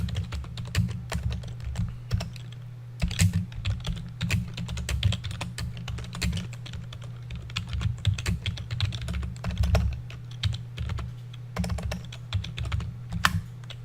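Steady typing on a computer keyboard, with irregular runs of quiet key clicks and brief pauses between bursts, close and clear with no voices.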